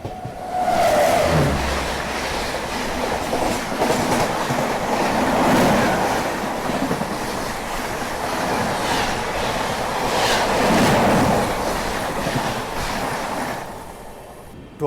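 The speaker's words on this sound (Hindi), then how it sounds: "तो अभी जो ट्रेन क्रॉस हुई वो थी डिब्रूगढ़ राजधानी एक्सप्रेस।" The Dibrugarh Rajdhani Express passes close by on the rails, a loud continuous rumbling rush with rhythmic clatter of wheels over joints, fading sharply at the end.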